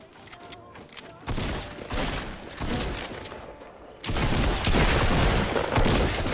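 Sustained rapid minigun fire in a multiplayer shooter game, a dense continuous roar that swells after the first second and grows louder and closer near the end, with faint talk underneath.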